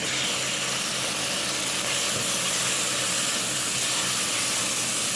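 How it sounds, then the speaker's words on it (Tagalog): Shrimp sizzle loudly in a pan with garlic and onion. A steady, dense frying hiss holds at an even level from start to end, with no voices. "i-next natin dito po yung ating shrimp. Ayan, kisa natin sa bawang at sibuyas."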